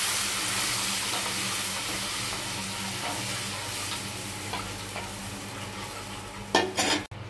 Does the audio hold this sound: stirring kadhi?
yes